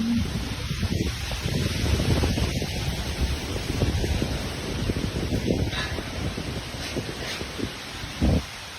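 Outdoor wind buffets the microphone in gusty, irregular low rumbles, loudest in the first half and easing later, with a brief sharper gust near the end and no speech.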